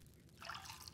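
Water trickles steadily while bottles are filled by hand on a farm, a soft continuous pour that grows brighter and louder partway through, with no talking.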